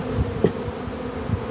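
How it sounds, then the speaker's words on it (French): Close to a production beehive, a hornet buzzes in brief uneven bursts against a low insect hum, with nobody talking. "Encore un frelon."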